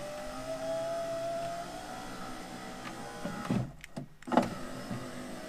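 A small electric power window motor in a BMW E39 whirs steadily for a few seconds, then clunks and strains as the rear window reaches its stop, fairly close and quiet.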